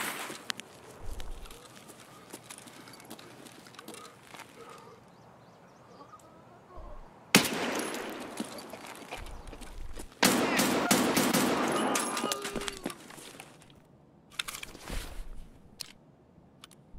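Gunfire in a video game: rapid bursts of automatic fire come in loud clusters in the second half, with quieter ambient game sound and faint footsteps between them.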